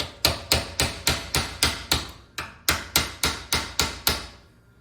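Steady hammer blows on a small rivet in the vent window of a 1972 GMC Jimmy, about fifteen sharp, close strikes in an even rhythm with one brief pause partway through, ringing briefly after each hit.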